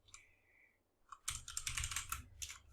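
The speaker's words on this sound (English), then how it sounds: "I'm not very good at talking and typing at the same time." Rapid typing on a computer keyboard, close and crisp, begins after a brief quiet lead-in and runs as a dense, continuous stream of clicks to the end, with no talking.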